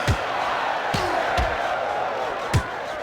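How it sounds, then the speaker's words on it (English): Crowd roaring throughout a PSP boxing video game bout, a steady wash of cheering broken by several sharp punch impacts. "You can hear the crowd roar."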